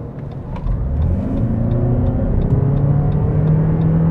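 A Lexus NX450h PHEV 4WD accelerates on a motorway toward 130 km/h, a steady low engine and road rumble building with a rising drone held under continuous tyre and wind noise, close and even throughout.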